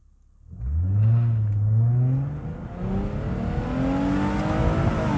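A Lexus IS250 fitted with a louder Pirtech exhaust accelerates hard in first gear, its engine note climbing steadily in pitch from a rumble to a strained rev, loud and close throughout.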